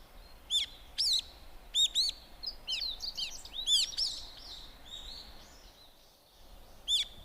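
Parrot at Zoo Miami giving a series of sharp, high chirping calls in short bursts over about six seconds, then pausing before a final call, with faint background noise and no clear speech.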